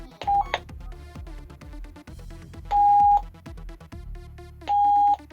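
A Jet mini radio plays again after repair, giving low-level music or broadcast sound broken by three bright, steady electronic tones about half a second long. The sound is close, and no voices can be made out.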